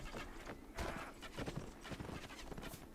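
A Kergit war horse gallops in the Mount & Blade: Warband Ottoman mod, its rapid hoofbeats clattering in a steady rhythm close by over a dense battlefield din, with a brief whinny-like cry.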